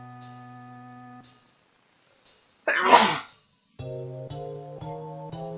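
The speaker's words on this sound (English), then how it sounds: "Ah, man, I gotta sneeze." A single loud human sneeze bursts out alone during a quiet pause while playing Final Fantasy VII, with steady game music playing before and after it.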